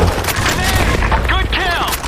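A grenade blast in a Sand Storm map of a video game: booming, crackling explosions with gunfire-like bursts over a dense, loud mix, while a voice talks over the action.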